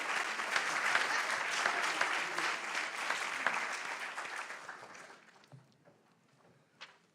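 Sustained applause from a summit audience at a university in San Bernardino welcoming Presidente Morales, steady and full for about five seconds, then fading out to near silence with a last faint clap.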